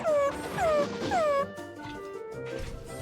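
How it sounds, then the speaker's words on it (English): Whimpering whines from a dog-like monster in the video game Dragon Quest Treasures, three descending cries close together, then a quieter tail of game sound. "That sounded like a dog whining noise."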